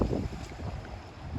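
Low, rumbling wind buffets the microphone outdoors at a beach, with a steady gusty roar and no voices.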